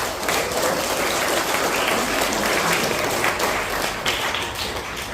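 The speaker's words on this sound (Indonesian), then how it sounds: "Kita beri tepuk tangan dulu." An alumni reunion audience at a junior high school gathering gives steady, dense applause that lasts throughout and fades slightly near the end.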